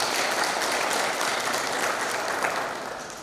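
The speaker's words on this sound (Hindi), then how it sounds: "उनके लिए भी तालियों का स्वागत करें।" An audience at an International Yoga Day event applauds a welcomed guest with sustained, even clapping from many hands, holding steady and easing off slightly toward the end.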